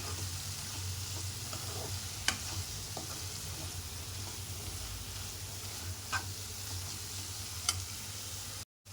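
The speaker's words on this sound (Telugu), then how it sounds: "చూడండి గోంగూర చికెను ఎంత మంచిగా ఫ్రై అయిపోయిందో" Gongura chicken frying in a pan, a steady close sizzle with occasional light clinks and scrapes of a spoon, and a brief dropout near the very end.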